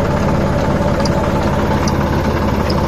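A Sonalika DI 35 diesel tractor engine idles at low revs with no throttle, a steady, close, loud low rumble with constant vibration and no variation throughout.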